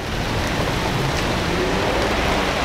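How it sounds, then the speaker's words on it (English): Rain falls steadily in Las Vegas, a dense continuous hiss of drops on surfaces outdoors, loud and unbroken. "I looked up, I was like, yo, it's raining, what's going on?"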